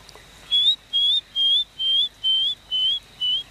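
Seven evenly spaced, clear whistle-like cuckoo calls in a rainforest, each a short rising note repeated at a steady rhythm, loud and close against quiet background.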